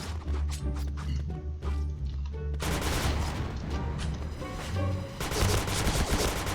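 Machine gun fire in the online shooter Point Blank, rapid continuous bursts rattling loud and close, mixed with other game sounds and short gaps between volleys.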